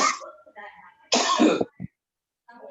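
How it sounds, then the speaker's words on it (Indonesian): A single harsh cough sounds close by during an online Zoom class, with a short throat-clearing catch right after, amid faint scattered voice fragments. "Ada batuk."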